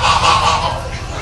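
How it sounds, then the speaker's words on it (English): Geese honking loudly and repeatedly at close range in a park, several overlapping calls forming a continuous noisy clamor. "Duckies!"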